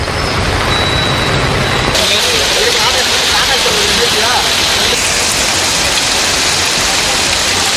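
Moderate rain pouring over city streets around Ukkadam and the railway station in Coimbatore, a dense continuous hiss of steady rainfall, loud and close, with a faint voice briefly under it.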